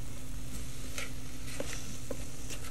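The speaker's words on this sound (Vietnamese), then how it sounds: "Bây giờ mình xào cho nó khô cái đã." Beef for beef floss stir-fried in an Instant Pot sizzles continuously, with a few scraping stirs of a utensil breaking through the steady frying hiss.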